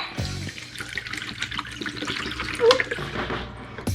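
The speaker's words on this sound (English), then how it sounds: "To pour the water." Water poured through a funnel in a kids' bubble science experiment, a continuous splashing, running-water sound close by, with a brief exclamation from a child near the start.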